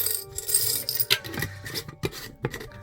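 Loose coins handled and shaken at close range make a continuous metallic jingling and clinking with scattered sharper clacks, and no one speaks.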